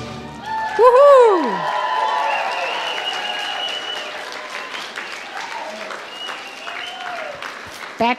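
Audience applause and cheering at a stick horse dressage show, a steady wash of clapping with a loud burst near the start and a voice rising over it, continuing evenly to the end.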